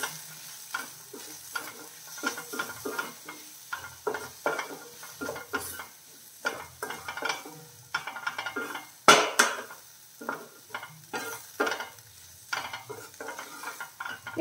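A spatula scrapes and clinks irregularly against a pan as masala with garam masala powder sautés, soft frying sizzle between the stirring strokes, close and fairly quiet with one sharper knock midway.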